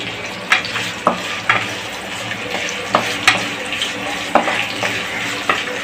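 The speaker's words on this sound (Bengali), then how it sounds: "পেঁয়াজটা একটু লাল হয়ে গেলে মাংসটা ম্যারিনেট করা মাংসটা ঢেলে দেবে একটু ফ্লেমটা বাড়িয়ে দিচ্ছি" Marinated mutton sizzles and fries with browned onions in a pan over raised heat, a steady hiss broken by sharp clicks and scrapes of stirring at an irregular pace, close up with no voices.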